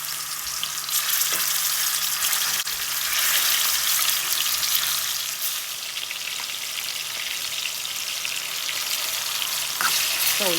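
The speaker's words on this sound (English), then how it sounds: "we are going to fry our meat first" Pepper steak meat frying in a pan for a Sunday dinner, a steady, dense sizzle that holds at an even loudness throughout with no talking.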